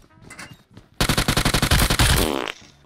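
A shooter video game's headshot hit effect sounds as a loud rapid burst of a dozen metallic clanks in quick rhythm, preceded by a few softer taps, without speech.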